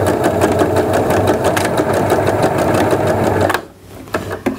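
Sewing machine stitching and backstitching the fabric of a large floor pillow: a steady, loud mechanical whir with rapid needle ticks that runs continuously, then stops abruptly near the end, leaving brief handling sounds.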